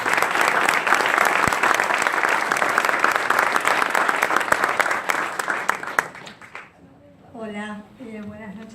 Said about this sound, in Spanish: Fuerte el aplauso para recibirla.